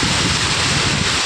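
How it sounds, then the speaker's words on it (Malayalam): Gusting wind buffets the microphone with a continuous low roar and rumble, loud and close, no voices heard. "നല്ല കാറ്റും ഉണ്ട് കേട്ടോ കാറ്റടിക്കണ കണ്ടില്ലേ"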